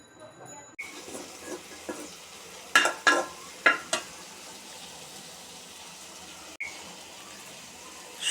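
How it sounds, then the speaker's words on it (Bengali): Flat beans and potatoes are stir-fried in a pan with salt, turmeric, chili and cumin powder. A soft, faint sizzle sits in the background, broken by several clattering spoon scrapes and stirring knocks, with a quiet voice heard at times. "শিম আর আলু সব কিছু দিয়ে কষিয়ে নিলাম।"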